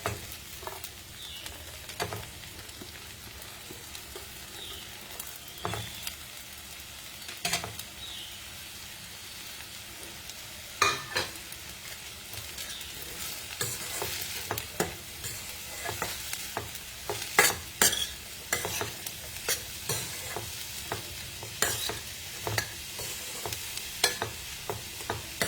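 Vegetables with sweet corn and zucchini stir-frying in a pan, a steady sizzle broken by repeated scraping and tossing strokes of a spatula that grow busier toward the end, with no talking.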